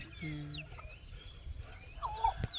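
Chickens, including a hen teaching her chicks to find food, cluck softly on a farm; brief scattered clucks and chirps sound at moderate distance over faint background noise.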